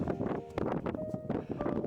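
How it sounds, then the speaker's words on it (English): Gusty wind on a frozen lake during ice fishing buffets the microphone in uneven rumbling bursts, loud and close, with no voices. "It's awful windy around here today"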